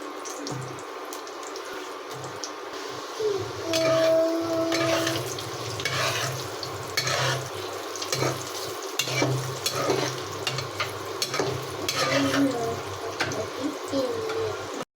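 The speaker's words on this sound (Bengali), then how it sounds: "এবার এগুলোকে তেলে ভেজে নেব।" Leftover roti rolls deep-frying in hot oil, a continuous bubbling sizzle with bursts of stirring and scraping and a few faint metallic squeaks, heard up close with no talking.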